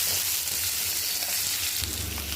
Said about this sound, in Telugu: ఎర్రగడ్డ జింజరగడ్డ వేసుకొని బాగా వాడించుకోండి